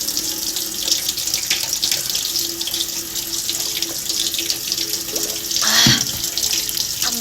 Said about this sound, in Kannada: ಇದೇ ಟ್ಯಾಪ್ ವಾಟರ್ ಕುಡಿಯೋದು